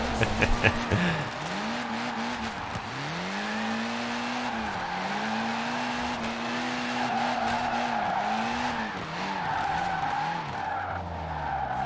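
In Forza Horizon 4, a heavy rear-engine car drifts, its engine droning with repeated rev swells and dips while tires skid and squeal steadily for the whole stretch, loud and close.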